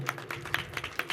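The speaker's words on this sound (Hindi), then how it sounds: "एक बार जोरदार से तालियां निशान के लिए।" At a school annual function, an audience claps, with scattered, uneven hand claps rising and falling over about a second, fairly close and moderately loud.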